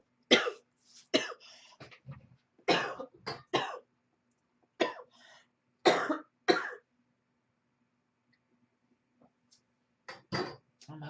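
Someone coughs repeatedly in short, sharp bursts with quiet gaps between them, close and fairly loud, with a few throat clears mixed in.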